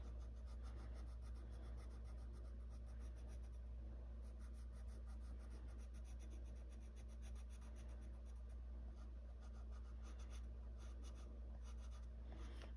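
A colored pencil scratches steadily across paper while coloring a page in an adult coloring book, a continuous close rasp with rapid stroke rhythm over a low constant hum.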